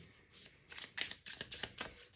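A deck of cards being shuffled by hand, several quick riffling bursts in a steady rhythm, close and clear with no talking.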